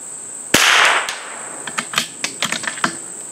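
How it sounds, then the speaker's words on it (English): A CZ 455 .22 LR varmint rifle with a fluted barrel fires one sharp crack, followed by a scatter of quieter, quick ticking impacts and clicks. "and we're going to take some shots."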